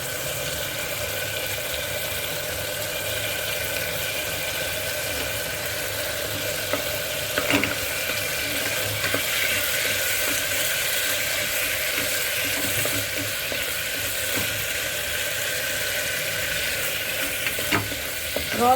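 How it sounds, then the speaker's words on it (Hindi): Ginger garlic paste fries steadily in hot oil in a pan for a mutton dish, with a continuous broadband sizzle and occasional stirring scrapes at close range. "अब जाएगा इसमें जिंजर गार्लिक पेस्ट, और इस पेस्ट का रॉ स्मेल जाने तक हम इसको भूनेंगे।"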